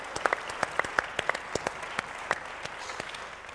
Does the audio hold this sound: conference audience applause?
yes